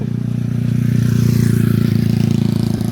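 Motorcycles pass on a road as a loud, close, continuous engine drone with a low throbbing hum that holds steady throughout.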